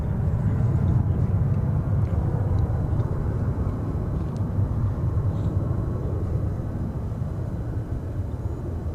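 An airliner taxiing toward its takeoff position at DFW Airport, a steady low engine rumble and whine heard from a distance, continuous and slightly fading, with no voices.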